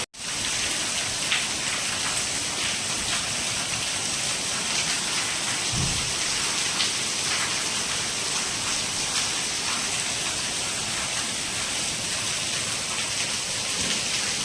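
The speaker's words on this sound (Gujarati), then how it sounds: "કેટલો સરસ વરસાદ પડી રહ્યો છે." A steady rain shower falls over a town in Kodinar, a dense, continuous hiss of drops hitting surfaces with a low rumble near the middle, heard alone with no talking throughout.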